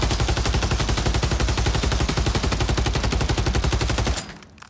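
Sustained automatic fire from an SOA Subverter in a video game firing range, fitted with attachments. A rapid, evenly spaced stream of loud shots runs unbroken for about four seconds, then cuts off into a fading tail.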